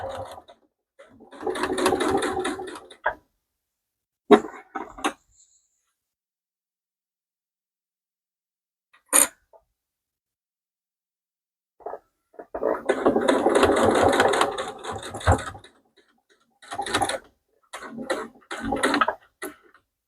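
A sewing machine stitches a back stitch in several separate bursts of fast, even mechanical whirring, the longest near the end, with quiet pauses between runs and no speech.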